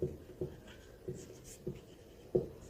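Chalk or marker writing on a classroom board during a Hindi history lesson, five short scraping strokes spaced about half a second apart, fairly close and quiet, with no talking.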